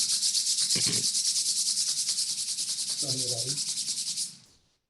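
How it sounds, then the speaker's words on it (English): Palms rub briskly together in a fast, even rhythm of close, loud swishing strokes lasting several seconds before fading out. "Rubbing the palms."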